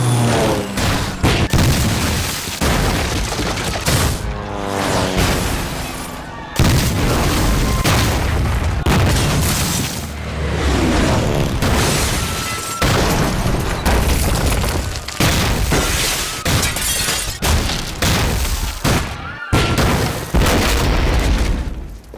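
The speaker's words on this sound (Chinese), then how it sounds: "日军对南京进行了第一次轰炸" Repeated loud booms of aerial bombing explosions from Japanese warplanes over Nanjing in a wartime historical drama, heavy blasts following one another in dense succession with short gaps between them.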